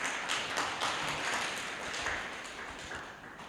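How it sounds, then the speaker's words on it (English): An audience at a public finance reform meeting gives a round of applause, a dense steady patter of many hands clapping at moderate volume that tapers slightly toward the end, with no talking over it. "We can give a round of applause to Dr. Dube."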